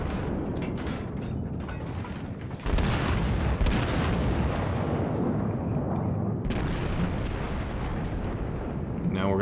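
Heavy naval gunfire from the Japanese battleship Ishizuki in World of Warships, with deep booming salvos and rumbling blasts rolling continuously and loudly throughout, a voice speaking briefly over the din.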